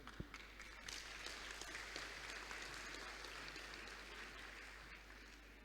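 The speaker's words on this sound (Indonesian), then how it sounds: "Sekali lagi beri tepuk tangan yang meriah" Audience applause at a university graduation ceremony, a dense, steady spread of clapping holding throughout at moderate distance, with no voices standing out.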